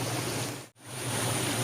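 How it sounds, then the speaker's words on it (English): Water runs through a traditional irrigation channel and is diverted by a small bank into a pipe, a steady close rushing wash that cuts out for a moment before returning. "we have made a small banking which diverts the water flow into this small pipe over here"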